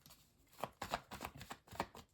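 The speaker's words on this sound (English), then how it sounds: "I don't know why I keep shuffling the cards" Soft, close riffling taps of tarot cards being shuffled, several quick bursts in an uneven rhythm with no talking.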